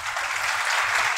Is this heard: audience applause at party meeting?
yes